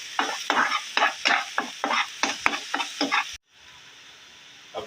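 Loud sizzling of ginger garlic paste frying in a hot pan with repeated rhythmic stirring strokes, then the sizzle drops to a quieter steady hiss.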